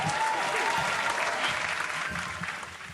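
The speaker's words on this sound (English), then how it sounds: "he walked through the door and the hands clap" Loud applause with many hands clapping in a dense, steady burst that thins slightly toward the end, with faint voices underneath.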